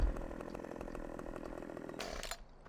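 A chainsaw in Farming Simulator 15 runs loud and steady as it cuts through tree branches, its buzzing engine continuous before briefly rising and then cutting off near the end.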